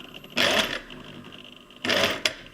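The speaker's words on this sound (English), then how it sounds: "Now we'll just sew along the sew line in a straight stitch" A sewing machine runs a straight stitch along the sew line of a cloth pad in two quick bursts of rapid whirring, with a short gap of quiet hum between them and no talk.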